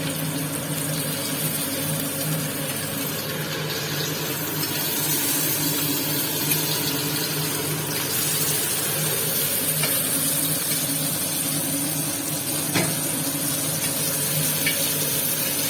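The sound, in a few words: fish frying in a pan (Karaikudi fish fry)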